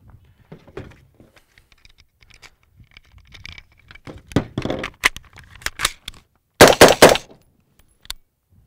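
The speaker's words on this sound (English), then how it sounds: "I'll go through readying the firearm and put 3 shots into the target" Three sharp gunshots from an M4-type rifle fired at a target on a range, coming in a quick cluster near the end after some handling clatter and brief muffled voices.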